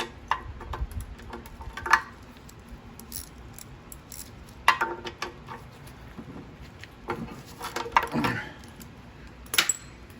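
Sparse metallic clicks and ticks sound close by at irregular intervals, a ratchet wrench worked in short bursts on a 2011 Weedeater lawnmower.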